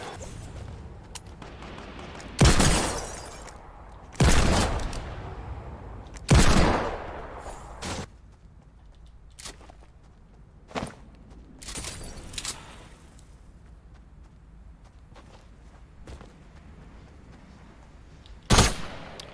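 Gunfire in the Fortnite video game: several loud, sharp shots spaced irregularly across the span, each a sudden broadband blast with a short decaying tail, over a low, steady game background.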